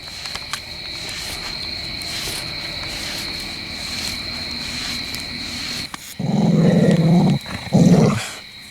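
A dog growling up close in a natural outdoor setting, two loud low rumbling bursts near the end after a stretch of steady insect and cricket chirring.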